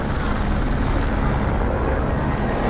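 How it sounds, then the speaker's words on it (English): A low-flying police helicopter passes overhead during a riot police standoff, its rotor and engine roar loud, steady and broadband for the whole stretch with no voices over it. "Can somebody give me an altitude on that chopper?"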